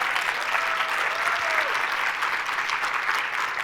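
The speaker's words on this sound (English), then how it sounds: "can we give them a round of applause for having this conference?" A crowd at a women's corporate retreat applauds the conference hosts, a steady, even wash of clapping that holds throughout, with a faint voice briefly audible beneath it.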